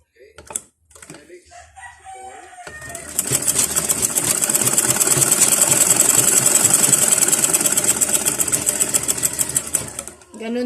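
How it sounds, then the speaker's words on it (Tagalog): A sewing machine stitches along a fabric scrunchie in a loud, fast, steady run lasting several seconds, after a few brief sounds at the start. "Tapos, papasadahan ko po uli siya ng tahi dito."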